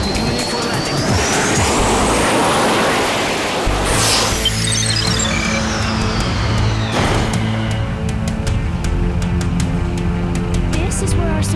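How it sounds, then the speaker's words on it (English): An aircraft comes in to land in an animated episode, a loud roaring rush with a rising whine and a sweeping pass, followed by crunching impacts and a scattered rumbling tail. "We're coming in for a landing."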